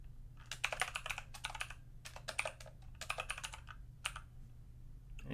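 Typing on a computer keyboard, quick bursts of close, crisp key clicks in short runs separated by brief pauses, over a faint steady hum with no talking.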